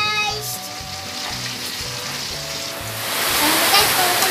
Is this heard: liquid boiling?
yes